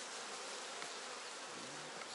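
A swarm of alarmed honeybees buzzes loudly and steadily at an open hive frame during queen-cell inspection, a dense continuous drone close by with no talking.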